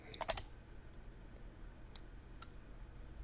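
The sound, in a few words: computer mouse clicking on PDF download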